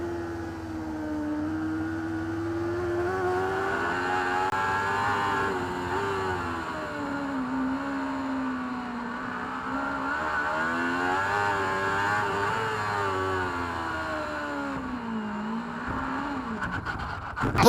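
Onboard engine of a superbike racing at Cadwell Park in the British Superbike Championship, a continuous high-pitched howl that rises and falls through gear changes and corners, loud and close with no voices over it.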